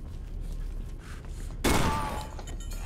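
A single loud gunshot bursts out in the Condemned: Criminal Origins game, preceded by quiet ambient game noise and followed by a brief ringing decay; no talking is heard.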